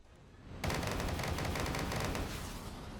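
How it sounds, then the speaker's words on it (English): A video-game rocket salvo lets loose after a brief quiet moment, a dense, rapid crackle of launches and blasts that holds loud and continuous to the end. "I'm going to go on a salvo here."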